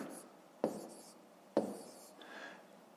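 Close, quiet pen-on-paper scratching as numbers are written by hand for long division in a fifth-grade math exercise, with two sharp taps of the pen.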